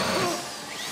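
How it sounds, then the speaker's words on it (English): A steady whining hum of a drill boring into a safe during a heist in the video game GTA 5, loud and continuous with a slight drop in level partway through. "Push the drill towards the bit point."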